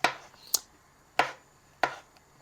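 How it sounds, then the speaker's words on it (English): A knife chops mushrooms for a homemade soup on a cutting board: four sharp, separate strikes spaced about half a second apart, close and clear with no talking. "So I'm just chopping the mushrooms"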